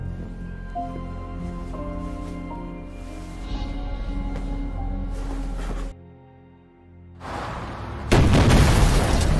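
Low rumbling tones give way to a sudden, loud blast near the end as a car convoy at a hotel explodes, with a burst of roaring noise following a brief lull.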